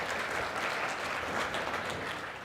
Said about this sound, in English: So please, a warm round of applause for Martin.